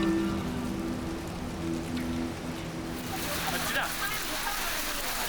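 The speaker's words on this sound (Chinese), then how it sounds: "离冰川越来越近，一场突然的冰雹" A sudden hailstorm near a glacier in a Tibetan region makes a steady, dense patter across the whole clip, with a low tonal hum running underneath for the first few seconds.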